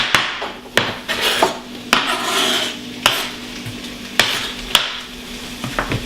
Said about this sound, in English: The steaks are browning right now in olive oil.